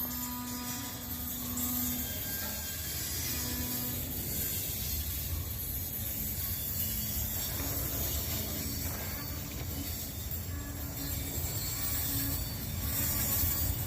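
A train pulls out with a faint, distant rumble, steady hiss and intermittent metallic tonal squeals from the rails, sustained and low in level throughout.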